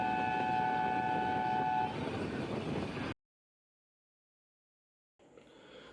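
The Nilgiri mountain train heads toward Coonoor with its engine in front and six coaches behind. A loud rolling rumble carries a sustained horn tone, then cuts to silence before fainter running noise returns.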